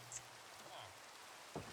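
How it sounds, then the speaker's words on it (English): Rain falling in the game ATM Gravitas 2, a soft steady hiss of drops throughout, quiet, with a faint murmur in the background. "Raining is making everything so hard to see."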